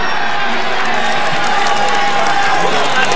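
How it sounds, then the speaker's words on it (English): A roadside crowd cheers and shouts continuously at a Tour de France prologue time trial, a dense, loud roar of many voices with whoops rising slightly toward the end. "Cheers of the crowds."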